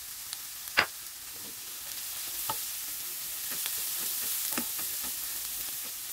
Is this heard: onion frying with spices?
yes